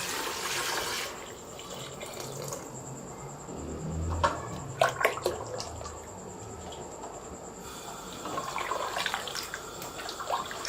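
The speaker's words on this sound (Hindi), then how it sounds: "अब पाए वाली यखनी मैं इसमें डाल दूंगी।" Goat trotter broth poured into a cooking pot with the oil already removed, giving a steady rushing, splashing pour at the start and again near the end, with a quieter stretch and a few clinks in between; no one speaks.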